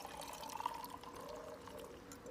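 Homemade switchel, a yellowy orange drink, being poured over ice, a soft steady liquid pour with faint trickling and clinking running through the whole short moment at low level.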